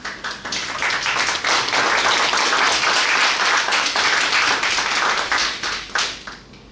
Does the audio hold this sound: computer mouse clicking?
no